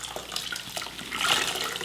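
Hot running water rinsing a soapy bamboo blind, a close, continuous splashing stream with uneven wet spatters that swell slightly toward the end, no voices over it.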